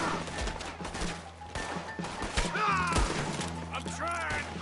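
Scattered gunshots crack amid a shootout in the video game Red Dead Redemption 2, with wagon rumble and character shouting layered over the fire at moderate loudness.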